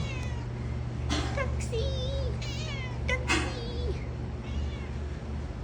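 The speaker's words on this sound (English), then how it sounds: "My last remaining barn cat." A barn cat meows several times in close succession at night, each call clear and near, over a steady low hum with faint bits of human voice around it.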